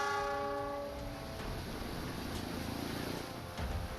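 A train horn sounds at a repaired railway bridge on the Linggapura–Bumiayu line in Brebes, a sustained blaring tone fading after about a second, followed by the steady rumble of the train rolling across, moderately distant.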